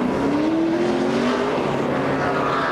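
A NASCAR stock car pulling away from a pit stop after an air pressure adjustment at the 2006 Auto Club 500, its engine note climbing steadily as it accelerates, heard from a distance over a constant roar of track and crowd noise.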